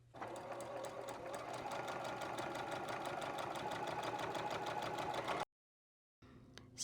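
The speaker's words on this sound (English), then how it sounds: "So I'm chain sewing all those sets first." A sewing machine chain-sews quilt pieces for a potato chip quilt, running steadily with a fast even stitching rhythm for over five seconds, then stopping briefly before starting again.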